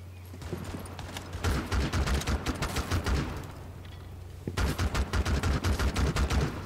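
Gunfire in the video game Rainbow Six Siege: two long bursts of rapid automatic shots, loud and close, with a short lull between them and no talking.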